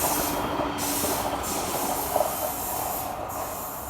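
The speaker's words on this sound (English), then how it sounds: "look how close the train is" A train passes very close to a botanical garden in Menton, France, its loud, steady rumble and hiss rolling on continuously, with rhythmic wagon clatter and a brief wheel squeal midway.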